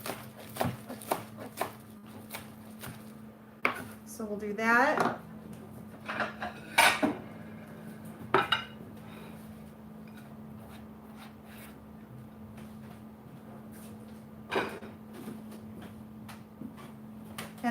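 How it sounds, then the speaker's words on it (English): Kale and spinach are chopped for a summer salad, giving scattered knife taps and clatters on a board, with dish clinks and a brief spoken line amid quiet stretches. "I'm partial to kind of just chopping everything up."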